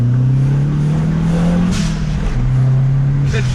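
Honda S2000 or MazdaSpeed3 accelerating hard, heard from inside the cabin as a loud, continuous engine drone that rises in pitch, drops at a gear change, then climbs again.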